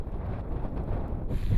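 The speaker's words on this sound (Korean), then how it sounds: "오후에 들어서면서 바람 소리가 커지기 시작했다" Strong wind buffets the Korean icebreaker Araon at sea as the weather turns. It comes through as a dense, gusting low rumble that swells and brightens toward the end, with no voices present.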